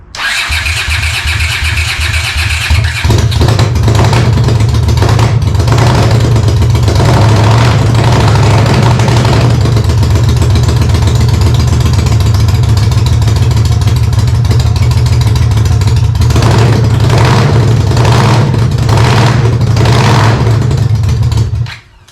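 A Honda CX500 motorcycle engine, fuel in the carbs and no choke cable, cranks briefly, then catches almost instantly and runs steadily at a loud, close idle with some revving for about twenty seconds before cutting off.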